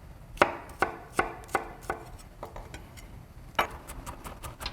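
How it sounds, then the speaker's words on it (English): A kitchen knife minces peeled garlic on a cutting board: a quick run of about a dozen sharp, close taps, steady at first and then thinning into lighter, irregular knocks. "Just going to crack the garlic bulb, peel off the skin, and mince it up."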